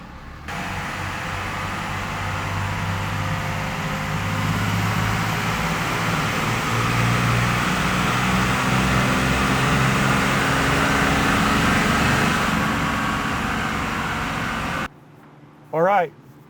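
A 3rd-generation Cummins common-rail diesel pulls through a max-power dyno run on a race tune with stock airbox and exhaust, a loud steady roar that holds for about fifteen seconds before cutting off abruptly, followed by a brief sharp sound.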